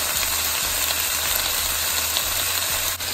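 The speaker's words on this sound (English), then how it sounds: "Now I'm going to grate 2 of these garlic cloves into the mix." Grated garlic cloves frying with red peppers in a pan give a steady, close sizzle that hisses on without pause, with soft stirring scrapes now and then and no talking.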